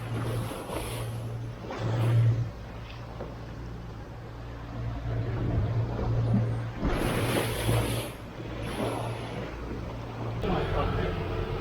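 A boat engine drones steadily while the hull slams and splashes through choppy seas in a lodos wind off Didim, Turkey, with bursts of spray and rushing wind throughout.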